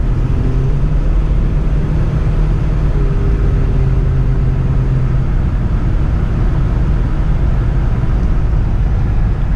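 Steady low engine rumble and road noise from a 1978 Lincoln Continental being driven, continuous and moderately loud with a faint higher whine, no talking.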